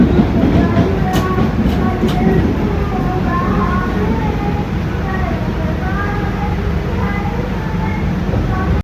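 The Ganga Sutlej Express rolls along as heard from inside a first AC coach: a steady, loud rumble with rhythmic clickety-clack of wheels over rail joints, unbroken throughout.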